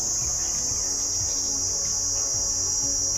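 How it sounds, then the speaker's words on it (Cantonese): Loud cicadas drone outdoors in hillside nature, a continuous high shrill buzz that holds steady throughout, with faint low rustles beneath. "好嘈嘅蟬鳴"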